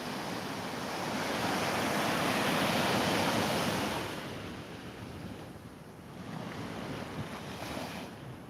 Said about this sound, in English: Waves aren't too loud